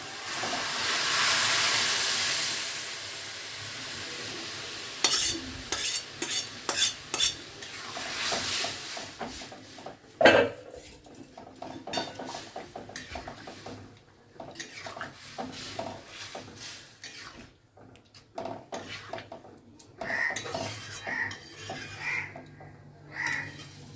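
Lentils and water poured into a hot pot over a tempering of spices, with a hissing burst of steam at first, then clinks, stirring and scraping of a spoon against the pot, moderately close.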